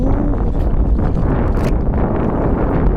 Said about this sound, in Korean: 바람